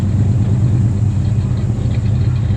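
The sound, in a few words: car engine running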